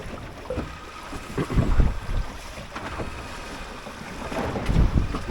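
Steady wind and rushing water around a sailing dinghy at sea, a Drascombe Lugger off Anglesey, with gusts buffeting the microphone and swelling louder near the start and end; no voices.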